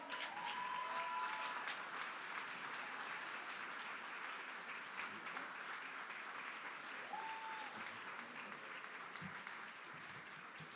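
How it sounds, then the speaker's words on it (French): Audience at a gala awards ceremony applauding the award winners, a steady wash of clapping sustained for about eleven seconds at a moderate distance, with faint voices briefly heard beneath it. "on les applaudit"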